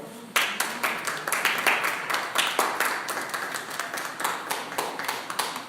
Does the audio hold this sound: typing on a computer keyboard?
no